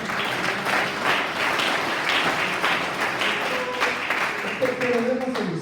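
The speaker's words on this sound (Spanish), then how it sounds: "Un fuerte aplauso." Loud, sustained applause from a church congregation, dense clapping running steadily for several seconds with scattered voices and cheers mixed in.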